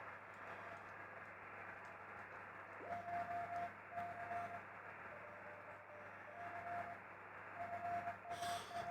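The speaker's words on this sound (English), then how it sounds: "So we've got our first Morse code station there." Morse code CW signal received on an amateur HF radio band: faint, intermittent tone bursts of dits and dahs rising out of steady receiver hiss and noise, with gaps between sending.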